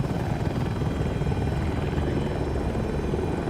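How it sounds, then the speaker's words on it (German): A helicopter in the video game Battlefield 2042 roars with a steady, loud, continuous rotor and engine drone throughout, no voices over it. "fliegt der Heli an."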